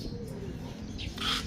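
A pet bird, returned after two weeks missing, calls with soft cooing and brief chirps against steady low background noise, growing slightly louder near the end.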